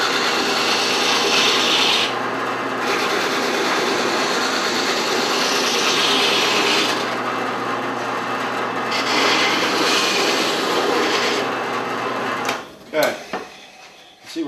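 Drill press sanding drum working a wooden bowl, a loud rough abrasive rasp in repeated long strokes with pauses between them, close up, ending in a few knocks as it stops.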